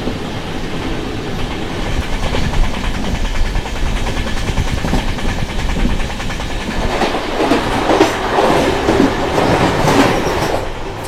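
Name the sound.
Shivamogga Town HBC Jan Shatabdi Express train passing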